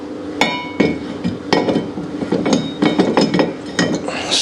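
A brake rotor on an FGX Turbo is slid back over the hub, giving a series of sharp metallic clinks and scrapes at close range, irregularly spaced across several seconds.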